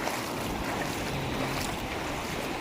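Sea waves washing on the shore during a morning beach walk, a constant broad roar of surf mixed with wind buffeting the microphone.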